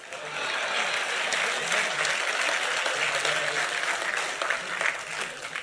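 Steady applause from a large audience at a Hindi poetry recital, continuous and dense throughout with no pauses, loud and fairly close.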